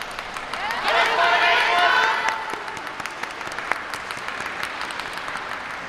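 Crowd applause and clapping along fill the background at a yosakoi dance performance, swelling briefly, with scattered claps and cheering mixed under a voice speaking.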